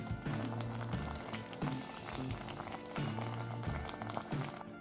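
Apple and pear compote simmers in a pot on the stove, giving a steady, soft bubbling and popping that carries on without pause.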